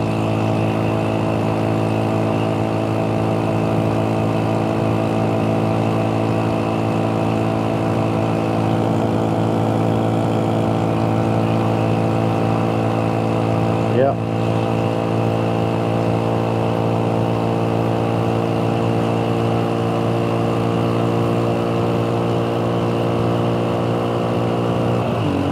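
A Honda Super Cub's small single-cylinder engine drones steadily in third gear on a desert ride across the Great Basin, holding a constant hum with strong harmonics throughout and no talking.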